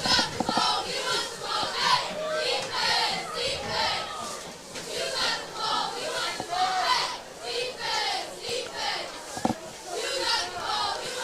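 A big crowd at a high school football game between Salina Central and Wichita Northwest keeps up a continuous roar of cheering and shouting, loud and sustained, with voices blending throughout.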